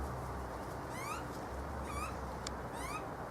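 Young bird calling for food outdoors on a chilly day, three rising chirping calls about a second apart, faint against heavy wind or traffic noise.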